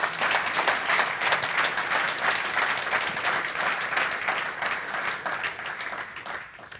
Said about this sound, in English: a really big round of applause for those persons